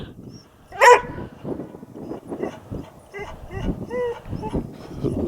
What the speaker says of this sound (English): this place comes with a noisy dog too.